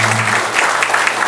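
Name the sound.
audience applause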